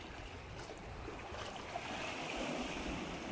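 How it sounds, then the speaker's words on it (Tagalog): Crashing waves and gusting wind on the coast of Ibiza, Spain, make a steady, rough wash of noise, fairly distant and continuous with no voices. "malakas ang alon tapos mahangin"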